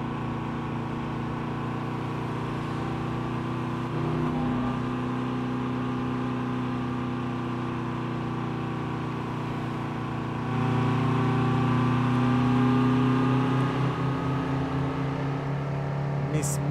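A Tofaş car engine in Euro Truck Simulator 2 drones at low revs, a steady humming rumble that swells louder partway through as it revs up, heard close and continuous.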